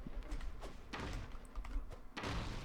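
In the Broforce video game, Tank Bro's aerial slam lands with dull popping thuds, three or four heavy bursts spaced irregularly over low background rumble.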